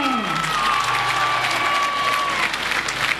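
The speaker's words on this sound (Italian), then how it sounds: "Ecco l'applauso rivolto al nostro capitano Gerlando Contino." A football stadium crowd applauds the home team's captain around an Akragas versus San Giovanni Gemini match, a dense, steady roar of clapping with a sustained whistle-like tone riding over it.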